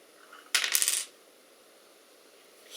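Wooden shogi pieces click against a shogi board in one brief burst of rapid, close clicks, with quiet room tone before and after.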